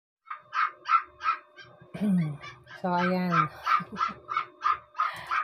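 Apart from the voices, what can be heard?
dog barking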